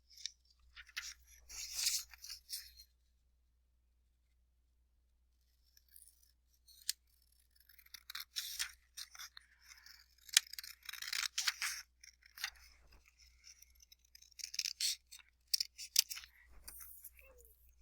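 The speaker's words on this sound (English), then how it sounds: "Now I'm going to go ahead and cut on that crease line." Scissors cut a sheet of paper along a folded crease line, giving close, crisp snipping and crunching in bursts, with a short pause partway through.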